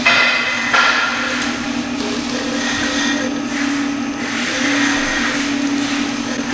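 Engine valves being hand-lapped with lapping compound before a rally raid, a steady abrasive grinding and rubbing that sounds uneven as it turns, close and loud with no voices.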